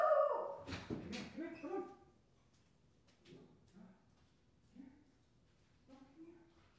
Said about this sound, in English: Here's the guy that's barking.